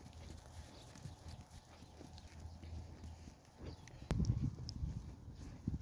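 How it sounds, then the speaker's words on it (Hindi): A horse walks along a green park-like path in Kuwait, its hooves clip-clopping in a steady rhythm at a moderate distance, faint over outdoor background noise. "उधर से एक घोड़ा आ रहा है"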